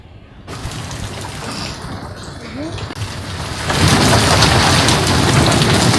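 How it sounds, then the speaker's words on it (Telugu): Heavy nighttime rain pours steadily with rolling thunder, swelling louder and denser after a few seconds, loud and enveloping. "అకస్మాత్తుగా వర్షం పడుతుంది"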